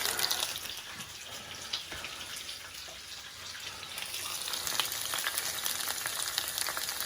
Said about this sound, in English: So I have my veggies frying away there